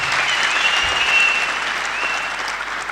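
An audience claps at a public forum, a dense, continuous round of applause that holds steady throughout.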